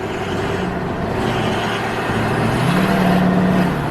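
Truck engine running with its turbo back on but sounding odd, a steady close drone with a rising whine toward the end, no talk over it.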